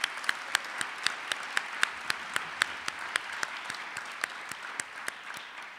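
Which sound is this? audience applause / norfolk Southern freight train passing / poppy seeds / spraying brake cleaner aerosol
audience applause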